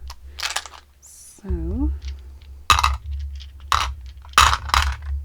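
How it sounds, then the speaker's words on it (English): Two small Looney Tunes dice rattle and clatter across a hard surface in a few sharp clicks and knocks, with someone speaking between them. "And we're rolling 2 dice for you."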